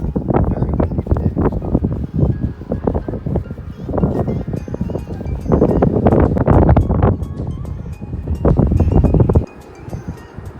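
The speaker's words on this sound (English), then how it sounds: "Very windy today." Strong wind outdoors on a bright day, gusting in loud, uneven bursts of rumbling buffeting against the microphone before easing off near the end.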